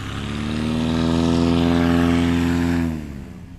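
Small STOL airplane landing at a short takeoff and landing competition in Ontario, Oregon, its propeller engine droning steadily and loud with shifting throttle, then dropping away sharply near the end as it slows to a stop.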